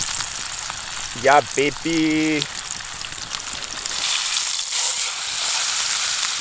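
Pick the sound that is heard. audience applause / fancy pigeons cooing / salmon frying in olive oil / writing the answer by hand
salmon frying in olive oil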